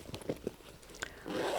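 A zipper on the back compartment of a leather Chanel handbag with a fabric interior gives a few short, quiet ticking pulls, then a longer, louder zip run, close up and without talk.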